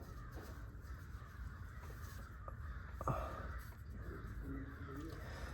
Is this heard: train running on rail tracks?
no